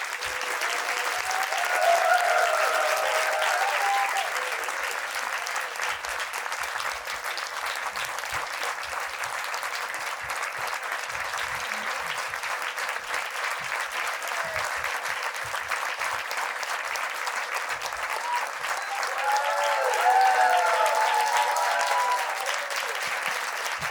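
At the ACT Foundation's 20th anniversary celebration, an audience applauds as its founder Mohanji comes to the stage. The clapping is long, warm and steady, with a faint voice or music surfacing in places.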